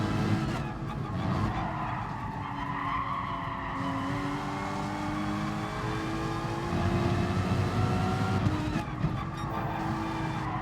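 Racing car engines rev and whine continuously with tires skidding and squealing at the Red Bull Ring in GT Sport, a steady loud roar that rises and shifts in pitch throughout.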